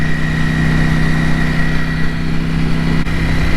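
A Ducati Panigale V4 motorcycle touring through flat countryside, its engine giving a steady, loud, close hum with a constant pitch and no speech over it.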